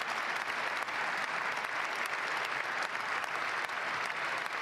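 Dense, sustained applause from a large audience at a presidential inauguration, loud and steady throughout without any speech on top.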